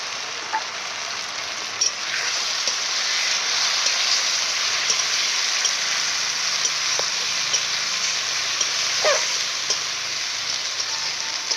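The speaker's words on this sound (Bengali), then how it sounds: "পেঁয়াজটা ভাজা হয়ে গেছে, মশলাটা এবার ঢেলে দিলাম।" Ginger, garlic and red chilli paste mixed with garam masala and turmeric, hitting fried onions in hot oil, gives a steady, dense sizzle with faint crackles throughout.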